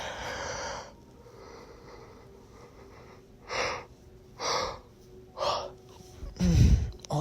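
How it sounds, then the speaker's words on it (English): A person yawns and breathes audibly, with several short breathy bursts followed by a deeper, louder gasping exhale near the end, close to the listener and with no words spoken. "always yawning, I swear, during these."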